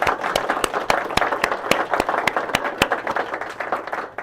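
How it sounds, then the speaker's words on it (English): A small audience at a museum talk applauds, a sparse round of distinct, fairly loud claps in an irregular rhythm that continues steadily for several seconds, with no voices over it. "can we give a round of applause to Linda for that extraordinary introduction?"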